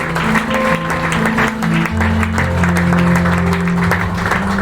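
An audience at a graduation ceremony claps loudly and steadily for a graduate, the dense applause filling the room with a few scattered cheers and voices mixed in.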